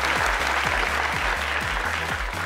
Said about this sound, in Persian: تشویق کنین